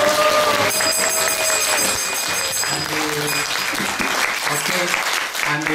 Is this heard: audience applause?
yes